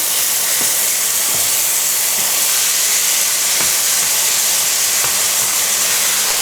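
Lamb mince frying in a pan gives off a loud, steady sizzling hiss, with occasional faint clicks and scrapes beneath it and no talking.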